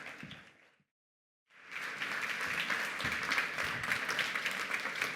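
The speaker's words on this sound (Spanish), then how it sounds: "un aplauso para ella, por favor" At a talk on sexual and reproductive rights, an audience greets speaker Mirta Moragas: brief clapping, a short dead cut, then fuller sustained applause from a roomful of people.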